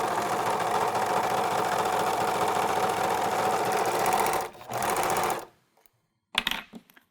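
An American Home serger stitching fabric, a steady loud mechanical whir running continuously for about five seconds with a brief dip, then stopping, followed by a few faint clicks.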